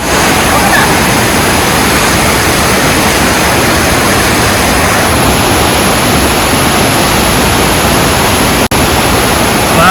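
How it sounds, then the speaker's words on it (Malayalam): A loud, constant rush of water flowing under a bridge during heavy rain, broad and roaring, continues without pause throughout. "ഈ വെള്ളം ഇങ്ങനെ അടിയിലൂടെ ഒഴുകുന്നു"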